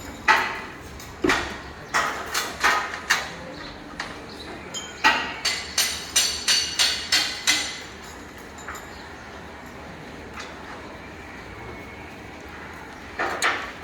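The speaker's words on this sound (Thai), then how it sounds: "ตอกหมุดนะครับ" Hammering rivets in a Thai car repair shop: bursts of sharp, ringing metallic strikes in quick runs of several blows, fairly close, separated by pauses with workshop background.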